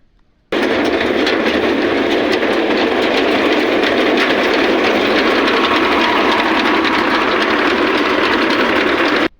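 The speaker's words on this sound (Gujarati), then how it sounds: "તો ચાલો હવે કરવી મારું ભાખડા જેવું થ્રેસર ચાલુ." A wheat thresher on a farm field runs its engine steadily and loudly, a dense continuous mechanical roar with a fast rattling drone that starts abruptly and holds unchanged to the end, no voices.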